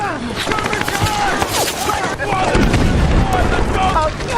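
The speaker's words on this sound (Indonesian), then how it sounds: "para marinir tiba-tiba disambut dengan tembakan dari serdadu Jepang" Rapid bursts of gunfire crackle amid a dense battle din, with booming impacts and shouting voices layered throughout, as American marines are fired on by Japanese soldiers from a bunker.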